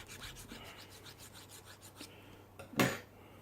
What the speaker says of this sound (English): I'm just filing the corner of the nut. You can probably hear it